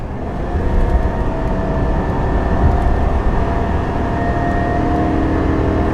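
A new Chevy Silverado 2500 with the 6.6L gas engine strains while towing up a 6% grade, a loud, steady engine roar with a deep rumbling drone heard from inside the cab.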